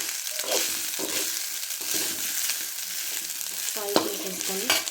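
Cauliflower fried rice stirred in a frying pan, a spatula scraping and tossing the rice in a steady rhythm over a continuous close sizzle, with a couple of sharper scrapes near the end and no talk.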